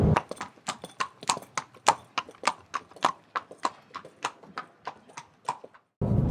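Horse hooves clip-clop in a steady, brisk rhythm of about twenty close, crisp strikes, with a faint whinny mixed in, no voices, before a sudden cut to a different sound.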